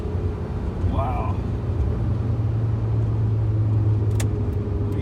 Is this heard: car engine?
yes